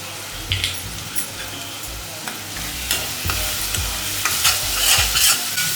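Raw prawn curry with turmeric fries in oil, giving a steady low sizzle, with repeated scraping stirs of a spoon against the pan through the whole stretch.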